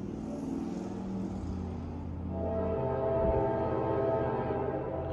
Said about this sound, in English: train tracks go right by this house